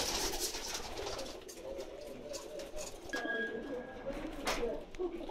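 Pigeons coo softly and repeatedly amid a busy background of rustling and chatter, with a brief higher chirp partway through.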